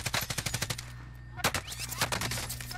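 Automatic gunfire in Call of Duty Warzone, rapid bursts of close, loud shots in two volleys separated by a brief lull, with sharp repeated cracks.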